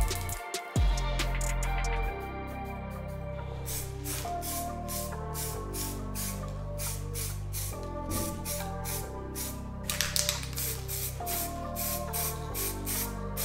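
Repeated bursts of spray lacquer being applied to a refurbished Range Rover P38 steering wheel after its coats of black, each hissing pass steady and close, separated by brief pauses with no talking.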